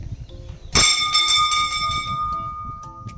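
A temple bell at a Kali Mata temple is struck once, giving a loud, bright metallic clang that rings on with slowly fading overtones and a few faint follow-up taps.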